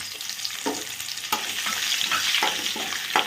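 Sliced chili and garlic hitting hot oil already fried with cinnamon and bay leaf, giving a steady bright sizzle broken by several sharp scraping stirs of a spatula.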